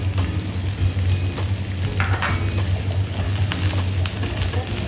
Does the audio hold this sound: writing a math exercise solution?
no